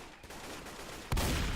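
Broadband burst of AK rifle fire erupts abruptly near the end, loud and dense after a quieter stretch of game ambience, fired in a co-op zombie shooter.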